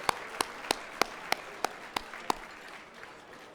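A short round of applause at a volunteer awards event: sharp, evenly spaced claps ring out clearly and taper off toward the end.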